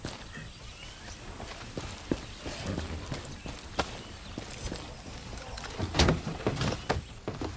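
Horse hooves galloping in the Far Cry 6 video game, a run of irregular thudding hoof impacts over steady game background noise, with a few louder hits standing out near the end.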